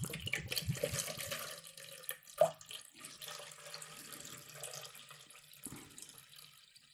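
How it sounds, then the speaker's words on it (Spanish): Water poured into an Acala Quell 5-litre water filter to top it up, an even splashing, trickling stream with one brief knock partway through, close and fairly quiet. "Y nuestro otro poquito de agua para llenarlo hasta arriba."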